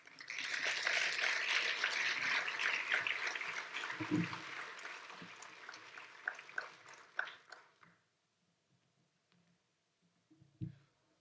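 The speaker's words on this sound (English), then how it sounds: "One more round of applause for our Metro President." Dense applause from an audience at a regional government address fills the first several seconds, thinning into scattered claps before fading to near silence, with a brief thump near the end.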